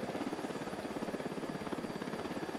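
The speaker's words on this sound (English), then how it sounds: "Rebels are gonna get this chopper here." A helicopter in the Ghost Recon Wildlands video game churns steadily with a rapid rotor chop, loud and continuous throughout with no voices over it.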